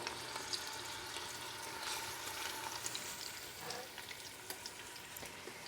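Meatballs searing in oil inside an Instant Pot on the normal sauté setting, a faint steady sizzle with small scattered pops and crackles, close by and with no talking.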